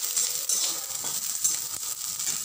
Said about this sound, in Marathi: लसूण मिरची छान अशी भाजून